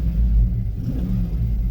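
Low, steady idle rumble from an Escalade truck engine with the factory muffler, close and continuous, without voices.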